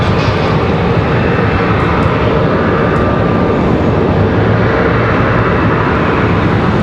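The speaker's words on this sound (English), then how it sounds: "So that Delta connection, that's Republic Airways at 5602." A Republic Airways Delta Connection jet at Raleigh-Durham International Airport produces a loud, continuous engine roar that stays steady and close for the whole stretch.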